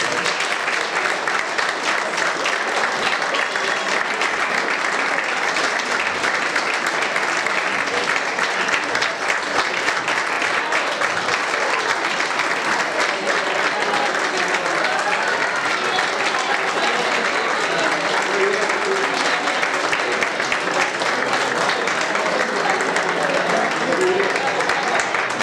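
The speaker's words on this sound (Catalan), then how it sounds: "Moltes gràcies, un aplaudiment," Sustained audience applause fills a Catalan stage presentation for 2016, dense and steady throughout with a murmur of crowd voices underneath.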